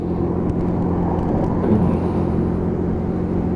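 Lexmoto Michigan motorcycle riding on a road, with a steady, loud engine drone and wind rumble throughout and no talking.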